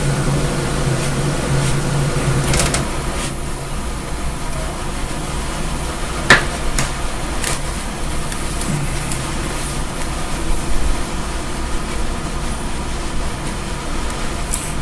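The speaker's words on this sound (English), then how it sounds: "the only thing that's probably going to be in the background of the audio story is the air conditioners" A room air conditioner runs in hot weather with a constant, fairly loud broadband hum and hiss, joined now and then by faint clicks and thumps.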